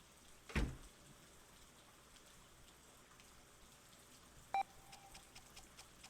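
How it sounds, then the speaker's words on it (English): Steady, faint rain falls outside a quiet room in a video game scene, with a brief electronic beep from a heart monitor partway through. "The electrocardiogram and the rain outside are the only things that disturb the silence of her room."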